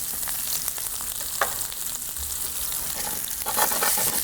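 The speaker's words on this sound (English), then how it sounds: "we're going to add the shallots and the garlic" Chopped shallots and garlic sizzle in a hot pan that was just used for salmon: a brief, continuous crackling hiss with small popping bursts, close and fairly loud.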